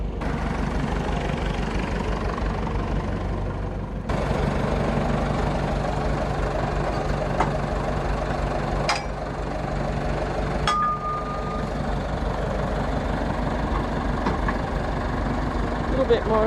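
Motor grader's diesel engine idling at a dirt worksite: a steady low, throbbing rumble that continues throughout, with a few sharp clanks and a brief tonal beep, people talking over it.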